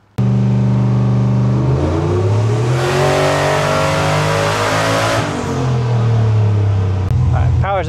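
An 800hp SBE Silverado engine on a dyno during a tuning pull roars up through a long sustained rev to a screaming peak, falls back, then settles into a rumbling idle, loud and close.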